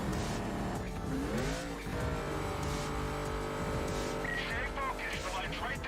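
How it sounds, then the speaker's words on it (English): A Chevrolet Camaro with a supercharger in Need For Speed Carbon races along with a rising and falling engine whine and brief tire squeals, while someone talks over it. "The Camaro with the supercharger whine. Sounding absolutely beautiful."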